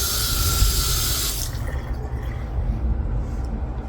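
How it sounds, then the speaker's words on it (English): Water from a tap splashes steadily into a sink, then the flow drops off sharply partway through, leaving a softer trickle and room noise. "Let's turn the water on."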